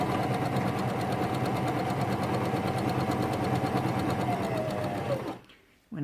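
A Janome sewing machine on stitch setting B runs steadily for about five seconds, a close, continuous mechanical whirr with rapid needle clatter, then stops abruptly into near silence.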